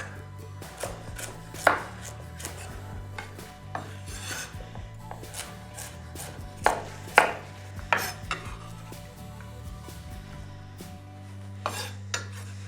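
A knife chops potatoes into small cubes on a cutting board in irregular knocks, some sharp and loud, others soft, over a low steady hum with no talking.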